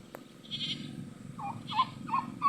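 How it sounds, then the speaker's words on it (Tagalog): A neighbour's flock of four turkeys gobbles in a quick series of three or four bubbling calls at moderate distance, over a steady low background hum and with no talking. "Pabo ng kapitbahay"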